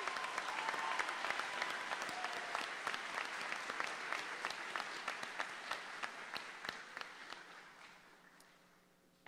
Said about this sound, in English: Let's give our faculty and staff another round of applause.